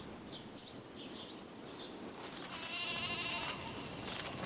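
Sheep bleating in the rugged desert badlands of Dakota, several short bleats near the start followed by a louder, wavering bleat, heard alone against a steady outdoor hiss.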